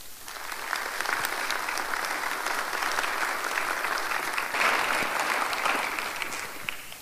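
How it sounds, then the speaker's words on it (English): An audience at a town community information meeting applauds in a sustained, dense burst of clapping that stays full and even for several seconds, with no talking over it. "let's give a big round of applause to everyone"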